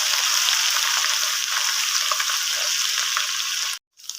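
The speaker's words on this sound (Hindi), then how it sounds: "अब हम इसको ऐड करके इसको जो है वो गोल्डन होने तक पकाएंगे" Garlic and ginger paste frying in a pan for a dhaba-style daal chana qeema, a steady dense sizzle that carries on evenly before cutting out abruptly near the end.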